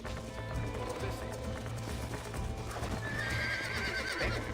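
A horse in Red Dead Redemption gives a loud whinny over steady clip-clop of hooves, with game music and a voice talking underneath.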